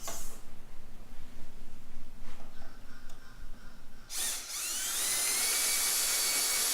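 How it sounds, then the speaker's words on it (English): Power drill boring holes in the side rail of a wooden crib being turned into a desk, a steady high whine starting abruptly partway through after quieter workshop noise. "I'm just going to drill the holes with the drill at 26 inches after I measure it"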